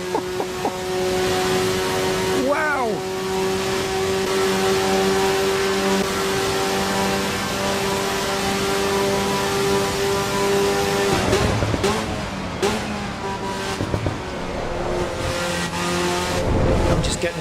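Race car engine in the Assetto Corsa EVO sim at Spa's Eau Rouge, a loud sustained high-revving drone with gear-change sweeps and brief tyre scrub, climbing and dropping in pitch, heard under occasional commentary.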